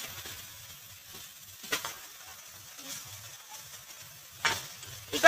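Chopped onions sautéing in a pan for sambar, a faint low sizzle with a few brief stirring scrapes and clatters. There is no talk.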